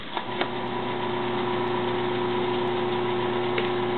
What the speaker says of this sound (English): and the motor starts spinning now.